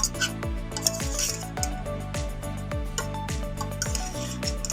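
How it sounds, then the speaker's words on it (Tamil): A ladle scrapes and stirs masala and cauliflower in a pan. The clinking strokes are loud and close, and they run under steady background music. "மசாலாவை நல்லா வந்து பரட்டி விட்டுக்கோங்க கரண்டியை வச்சு"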